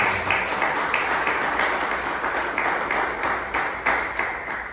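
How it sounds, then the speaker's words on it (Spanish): A church congregation applauding the Lord, sustained crowd clapping with a few sharper individual claps standing out, steady and moderately loud throughout. "Denle ese aplauso al Señor."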